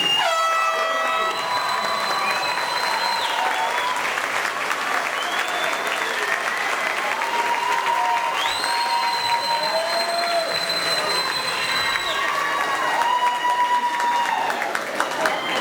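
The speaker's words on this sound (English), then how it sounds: "Let's show our applause for round two." A ceremony audience at the 2017 Team G promotional ceremony claps steadily and loudly for a long stretch, with horn blasts and cheering rising through the applause and crowd voices mixed in.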